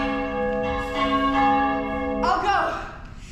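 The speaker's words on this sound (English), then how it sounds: "The bell invites me." A church-style bell tolls as a stage effect in an outdoor summer academy production of Shakespeare's Macbeth, sounding one sustained, ringing strike that hangs in the air before a second, brighter clang near the end.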